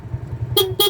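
Two short, loud honks from the horn of a TVS King auto-rickshaw, close by, over a low idling engine putter.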